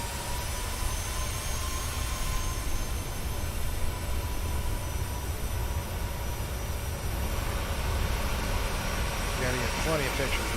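A single-engine aircraft taxis in Flight Simulator, a steady engine drone holding for about ten seconds with faint tonal whines on top and no clear speech.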